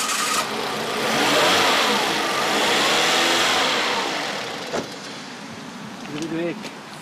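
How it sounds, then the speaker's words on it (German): A faulty car engine that keeps stalling whenever the throttle is released, suspected to have a broken idle control valve, rumbles at close range and swells through a long rev before dropping back, with brief voices near the end. "Der Motor geht immer wieder aus, sobald man vom Gas geht."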